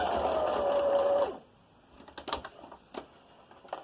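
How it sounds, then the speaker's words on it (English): A sewing machine top stitches a fabric face covering in contrasting thread, running as a steady loud whir for about a second and a half before stopping, followed by faint clicks and handling noises. "We're now going to top stitch this so that it's boxed in."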